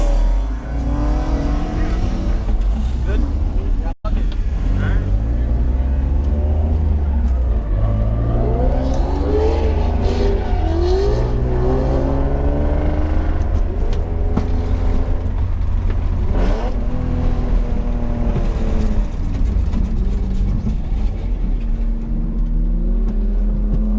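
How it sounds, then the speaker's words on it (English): A drift car at a speedway, its engine revving hard and rising and falling in pitch through repeated slides, loud and close throughout with one brief cut near the start. "So less talking, more drifting."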